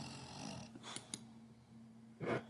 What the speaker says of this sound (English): Snoring like crazy over here.